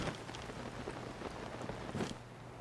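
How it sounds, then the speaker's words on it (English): Rain falls steadily in the video game Zelda: Tears of the Kingdom, a soft continuous patter of drops with a few brief swells, heard alone without any talking. "Ooh, and it's raining."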